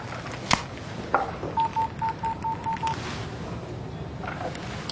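Phone number dialed on a telephone: a couple of clicks, then a quick even run of about eight keypad tones, close and clear over quiet room tone with no talking.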